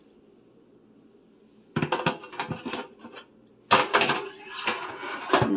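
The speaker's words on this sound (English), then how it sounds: "So I'm just going to adjust the bread pan one more time" Metal bread pan of homemade banana muffins being shifted on an oven rack: two bursts of clattering metal scrapes and knocks, close and fairly loud, after a quiet start, with a brief word spoken.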